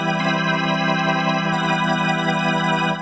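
Bertha 2 organ synthesizer with chorus added, a steady sustained organ chord with rich stacked harmonics and a gentle shimmering wash, loud and unbroken throughout with no talk.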